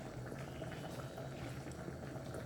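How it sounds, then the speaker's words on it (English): Vegan meatless spaghetti sauce boils steadily in a pot, a low continuous bubbling and simmering that stays faint and even throughout, with no voices. "just make sure that it boils a little bit more"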